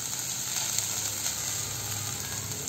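Water is poured into chicken filling for lemper in a hot pan, and a steady, close hissing sizzle holds throughout with faint scraping from stirring.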